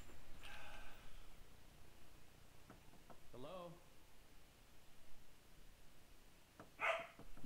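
Dogs barking in a video game, a couple of short distant barks rising out of a faint noisy background, separated by a few seconds, with a brief bark cluster near the end.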